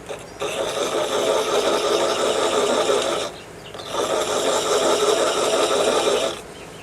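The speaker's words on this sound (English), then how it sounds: "So now I'll make the last few cuts pulling this way to make" Lathe running while thread chasing cuts are made, a steady whirring machine drone in two long stretches separated by a brief dip, close and fairly loud.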